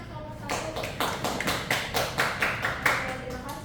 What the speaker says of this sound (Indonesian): Boleh beri tepuk tangan kelompok 1.